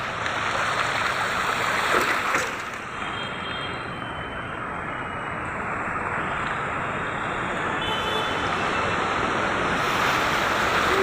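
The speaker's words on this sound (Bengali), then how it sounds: "বাইকগুলো যাচ্ছে যেন মনে হচ্ছে নদী থেকে যাচ্ছে।" Floodwater on a Kolkata street surges and sloshes steadily as bikes drive through it, a broad continuous wash of water close by with some wind noise.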